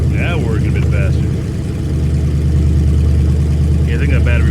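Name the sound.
2003 Ford Explorer engine idling after cold start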